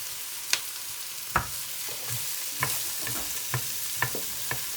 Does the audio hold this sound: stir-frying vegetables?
yes